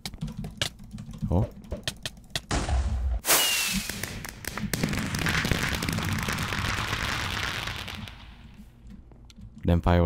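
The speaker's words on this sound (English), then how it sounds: "Them fireworks though." Fireworks go off in a Minecraft Hunger Games match: sharp cracks and bangs, then a long loud crackling burst, with game sounds and a voice mixed in.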